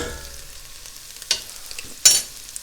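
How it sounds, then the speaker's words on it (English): Tomato paste braises in a hot pan, a faint, low sizzle broken by two sharp stirring scrapes or bursts of spitting, with no one speaking. "Braise the tomato paste a little"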